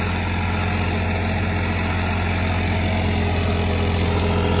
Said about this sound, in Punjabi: 9557 ਹਾਊਸ ਪਾਵਰ ਦਾ ਟਰੈਕਟਰ ਆ, ਫੋਰ ਵੀਲ ਡਰਾਈਵ ਦੇ ਅੰਦਰ।